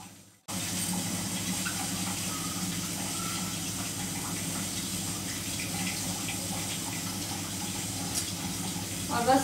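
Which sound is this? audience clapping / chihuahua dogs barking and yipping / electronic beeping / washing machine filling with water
washing machine filling with water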